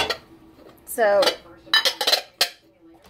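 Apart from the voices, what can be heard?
Corelle pans and dishes clinking while being handled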